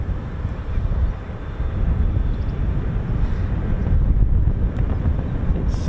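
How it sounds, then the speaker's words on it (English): Strong wind buffets the microphone in a continuous low roar at RAF Coningsby airbase, gusting slightly louder partway through, with no voices. "It's rather windy, as you can see."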